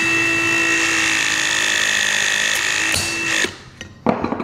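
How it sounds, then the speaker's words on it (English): A Ridgid RP 350 press tool with a StrutSlayr attachment shears through metal strut, a loud steady motor whine that ends abruptly in a sharp cut and then a few clanks, with no voices. "We can go ahead then and do a little shear."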